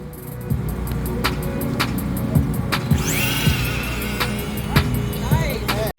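A battery-powered RC drag racing car, one rated at over 60 miles an hour, whines steadily close by with a rising pitch sweep partway through, over a busy background of clicks and low rumble.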